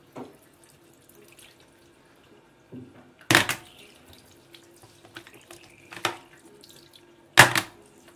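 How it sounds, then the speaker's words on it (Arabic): Water splashes and patters steadily, with several sharp louder bursts as a heavy stream hits an Oppo A3 phone up close. "الميه بتنزل عليه بغزاره"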